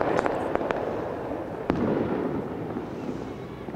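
Warning fireworks set off by lookouts in a Rio de Janeiro favela pop several times in quick sharp bursts over a noisy outdoor background, moderately distant, then fade into the ambient rumble.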